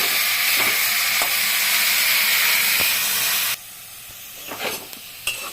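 Potatoes for alu posto fry in an uncovered pan with a loud, steady hiss that drops sharply about two-thirds through. A few spoon taps and scrapes follow over a quieter sizzle.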